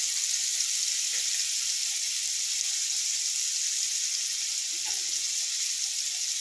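Onions and ginger-garlic paste frying in a pan for veg fried rice, a steady, even sizzle filling the whole stretch with faint stirring clinks and no voices.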